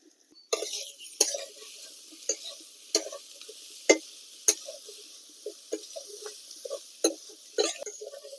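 Jackfruit with green chillies and salt being stir-fried in a pan, sharp scraping spatula strokes at an irregular rhythm over a soft sizzle, close and fairly loud.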